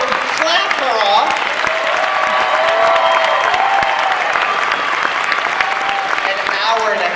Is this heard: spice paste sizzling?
no